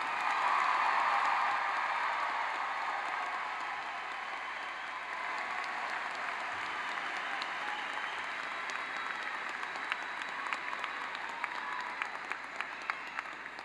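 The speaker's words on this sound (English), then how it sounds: "Another loud round of applause for our newest graduates." Crowd applause for new graduates at a university undergraduate commencement ceremony, a broad, sustained roar of clapping in a large venue that swells at first and then holds steady, with a few sharper individual claps near the end.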